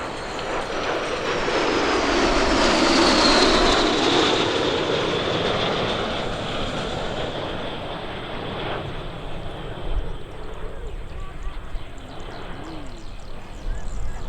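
A formation of L-39 jets in a flat finger-four pass roars past overhead at an airshow, swelling to a loud broad rush, then fading into a long distant rumble with light wind.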